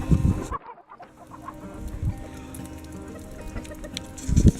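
Chickens clucking outdoors on a snowy spring day, a steady run of close, soft clucks and chatter with a few louder calls, no voices.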